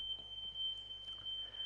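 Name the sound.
smoke alarm beeping in the background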